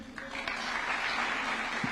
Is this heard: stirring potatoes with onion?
no